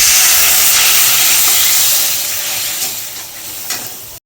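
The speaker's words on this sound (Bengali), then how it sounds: "এক দু চামচ পরিমাণ মতো হলুদ দেবো বেটে রাখা মশলার জলটা দিয়ে দিলাম" Spiced water from ground paste hits a hot pan of cooking moorla fish with turmeric, giving a loud steady hiss and sizzle that slowly eases over a few seconds with small bubbling pops near the end.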